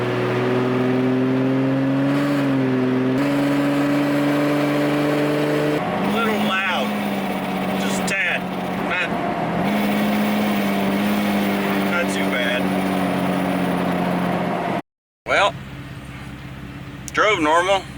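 Engine of a 2004 Jeep Wrangler TJ with a muffler delete droning loudly while cruising on a highway, steady low rumble with brief rising revs, under a voice talking in the cabin.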